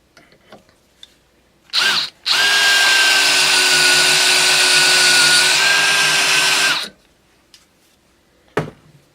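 A power drill spins up and runs steadily for about four and a half seconds, turning a homemade bolt deburring tool with freshly filed cutting edges, after a brief first burst; loud and close, with a steady whining tone, no talking.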